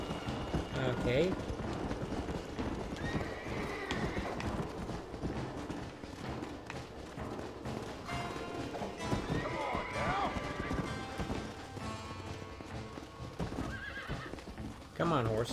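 Hooves clip-clop steadily throughout as a horse runs in the video game Red Dead Redemption on Xbox One, with occasional whinnies and a voice talking over the game sounds.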